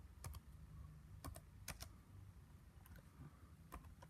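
Sporadic, quiet clicks of typing on a computer keyboard, with short bursts of keystrokes separated by pauses.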